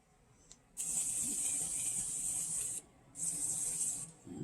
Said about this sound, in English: This is the Morphe Continuous Setting Spray to set the scene.